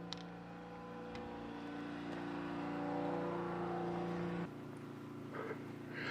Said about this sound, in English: I got a generator running behind me